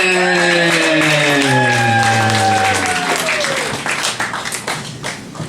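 Comedy club audience keeps clapping for a comedian coming on stage, loud sustained applause over a fading musical sting, thinning out toward the end as a voice begins to speak.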